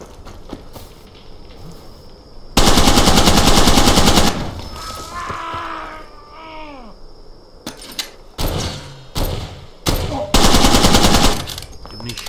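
Bursts of MP40 submachine gun fire in Far Cry 2, loud sustained automatic volleys separated by pauses and other in-game noises.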